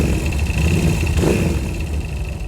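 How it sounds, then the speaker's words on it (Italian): Moto Morini Camel 500 motorcycle with a skimmed cylinder head and a segmented stainless steel exhaust, its engine rumbling steadily and loudly up close throughout with slight rises in revs and no talking. "la moto sinceramente ha un rumore che le altre non hanno."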